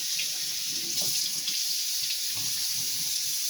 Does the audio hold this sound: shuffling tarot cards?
no